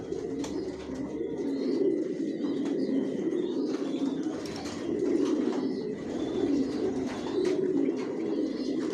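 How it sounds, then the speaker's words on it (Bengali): Racing pigeons in a loft coo steadily in overlapping, rolling calls throughout, with occasional faint chirps and wing rustles in the background. "এখানে যে কবুতরগুলো দেখতেছেন এগুলো আমার মাস্টার পেয়ার রানিং পেয়ার"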